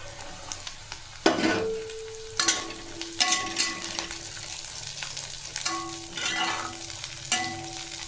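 Taro stalks frying and being stirred in oil with onion and green chili in a pan, a soft steady sizzle broken by louder scraping stirs at irregular intervals.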